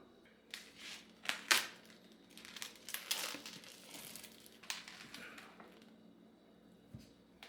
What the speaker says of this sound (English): We're going to cut out the bone first